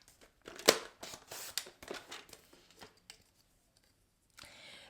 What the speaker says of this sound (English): and you are going to cut your cardstock 8 by 4.